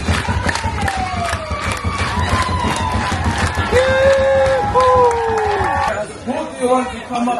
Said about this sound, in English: How about a round of applause for yourself?